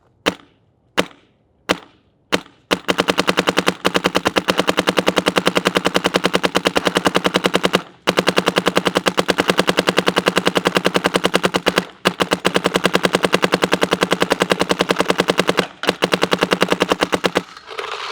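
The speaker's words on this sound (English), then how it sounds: "so we can just hear the markers sound" A Shocker ERA paintball marker fires a few single shots, then unloads a pod of paintballs in long, loud, rapid-fire bursts with brief pauses between strings, close by and without talk.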